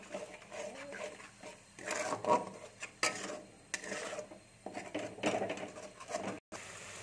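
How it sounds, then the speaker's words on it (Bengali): Spice masala moistened with a little water is stir-fried in a pan for a fennel cauliflower dish. A ladle scrapes in quick, uneven bursts of rubbing and clattering, close and moderately loud, with short pauses between strokes. "একটু আমি জল দিয়ে দেবো, দিয়ে মশলাটাকে আমি ভালো করে কষে নেবো।"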